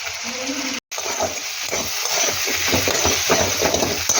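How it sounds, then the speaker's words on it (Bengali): Green peas, green chilli, ginger and cumin paste sauté in a wok for a jackfruit and prawn dish, giving a soft continuous sizzle with repeated stirring scrapes after a brief dropout near the start. "লঙ্কাটা খুব ভালো করে কষাতে হবে খুব ভালো করে কষানো হয়ে গেছে"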